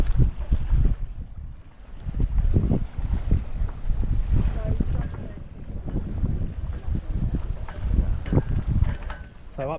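Light wind of 5-6 knots on the beam while sailing a boat, heard as constant gusty rumble and buffeting on the microphone with water sloshing underneath, loud and close throughout.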